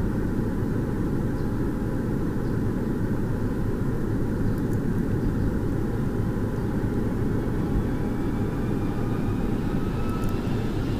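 An A-10A auxiliary power unit runs up inside a flight simulator game, a steady loud rushing whine and roar that holds evenly throughout, with no voices.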